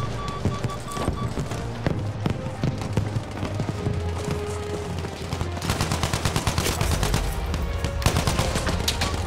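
Rapid automatic gunfire and single shots in the video game Battlefield, loud and continuous with dense bursts and impacts throughout, no talking.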